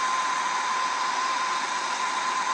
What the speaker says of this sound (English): Now when I sweat long pipes, I preheat the pipe away from the joint.